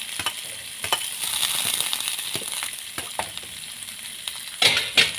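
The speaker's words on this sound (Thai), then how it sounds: "ผัดกับกระเทียม" Pork balls and vegetables stir-fried with garlic in a hot pan: a steady close sizzle broken by scraping, clinking utensil strokes, with two louder clatters near the end.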